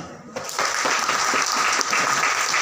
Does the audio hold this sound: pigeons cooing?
no